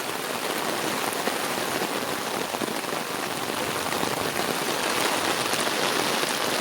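Heavy monsoon rain in Konkan, a dense, steady roar of downpour drumming on surfaces close by, unbroken and even throughout with no voices.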